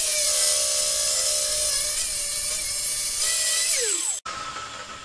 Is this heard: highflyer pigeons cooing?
no